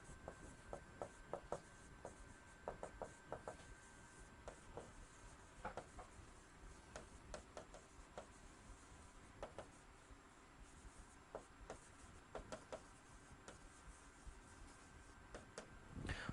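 A teacher writes on a board during an English grammar lesson, making faint scratchy strokes and light taps in short irregular bursts over a quiet room hum, with no talking.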